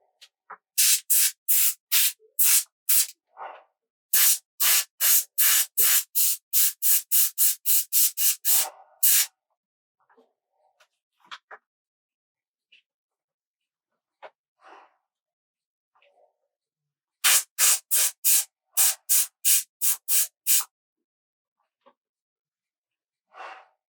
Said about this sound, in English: it's doing that nice airbrushing